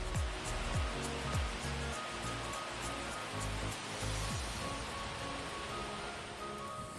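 Waterfall at Pulo Intan, Pintu Rime Gayo, Bener Meriah, heard as a constant, dense rush of falling water that stays even from start to finish.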